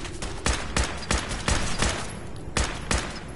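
Rapid bursts of gunfire in Fallout 4, a sharp shot roughly every third of a second with brief gaps, loud and close with no voices over them.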